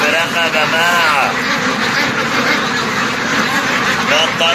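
A flock of French ducks on farm ground quacks loudly and continuously in a dense, overlapping chorus, with a man calling out prices over the noise.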